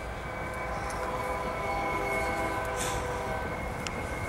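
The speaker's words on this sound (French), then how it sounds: "vous pouvez voir les trains qui passent en arrière, ici." A train runs past behind a spot where a house once stood, a steady broad rumble with wheel and rail tones lasting throughout, fairly close and loud, with brief higher squeals near the end.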